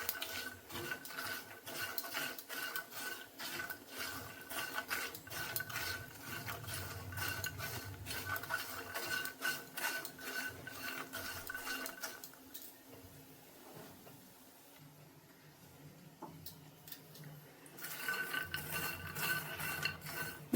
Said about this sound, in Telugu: ఈ మసాలా అంతా ఈ ఫూల్ మక్నీకి పట్టేటట్టు ఫ్రై చేసుకోవాలి